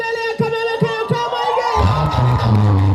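A crowd at a Kikuyu party cheers, whoops and shouts in a loud swelling burst that rises over music and a few scattered calls, staying dense and close to the end.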